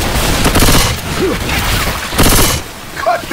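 Rapid bursts of gunfire in a Left 4 Dead 2 co-op match, loud chattering volleys in two main bursts with shouting voices in between.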